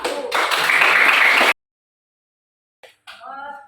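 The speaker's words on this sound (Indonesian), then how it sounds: "tepuk tangan untuk kelompok 1" Students clap for a group after its classroom presentation, a short loud burst of applause that stops abruptly, followed by a brief pause and then a voice speaking.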